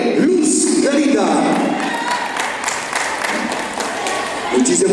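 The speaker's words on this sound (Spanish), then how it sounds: "lo recibimos con fuertes palmas al papá de Luz Clarita" Wedding guests applaud in a sustained wash of claps for the bride's father, with voices speaking and calling out over the clapping.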